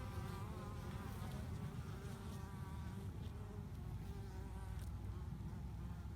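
Worker honeybees bringing in pollen near flowers such as dandelions and prickles, a dense continuous buzz of many bees close by, steady and unbroken with no talking.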